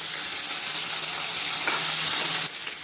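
Chopped tomato and green chilies frying in a hot pan, a loud, continuous hissing sizzle close by, with a brief stir partway through and no talk.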